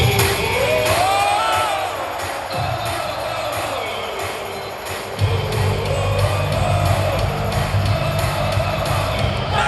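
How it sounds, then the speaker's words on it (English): A packed WrestleMania stadium crowd at SoFi Stadium roars for a wrestler's entrance, a dense, loud wall of cheering, shouts and whoops that swells again midway and stays sustained throughout. "Huge noise, massive pop"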